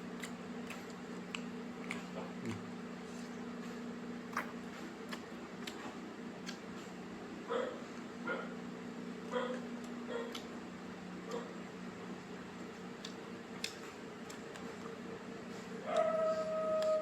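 A dog barks in short, scattered yips at a distance, faint over a quiet steady hum, with a few louder barks near the end and a voice now and then.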